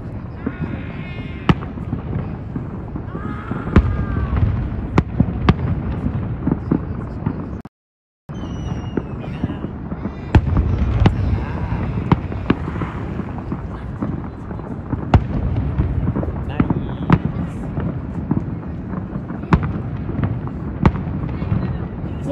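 New Year fireworks in San Antonio, Texas crack and pop repeatedly in irregular bursts over a steady rumble, with voices talking underneath throughout.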